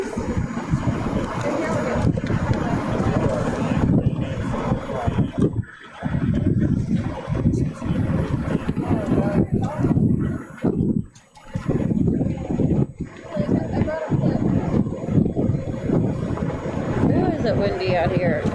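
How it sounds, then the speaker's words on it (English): Strong wind buffets the microphone outdoors on the Fort Lauderdale waterfront, with a roaring, gusty rumble that drops out briefly a few times, and people talk over it. "windy out here. Imagine you can hear it through the video recorder."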